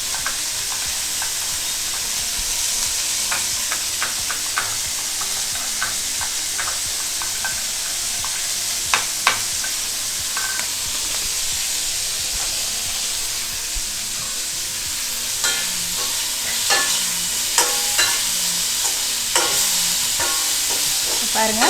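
Prawns seasoned with chilli powder frying in a pan for Thai pineapple fried rice, a loud, even, continuous sizzle up close with scattered sharp pops and crackles throughout, no voices.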